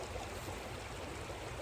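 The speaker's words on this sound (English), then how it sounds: "Fighting Creek here behind me." Fighting Creek, a mountain stream in the Great Smoky Mountains that feeds the Little Pigeon River, rushes in a steady, dense broadband wash of flowing water, close and continuous with no voices.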